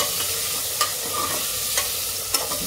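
Turmeric stirred in hot oil in a pan for sambar: a steady, fairly loud frying sizzle with three brief scrapes of the spoon at even intervals.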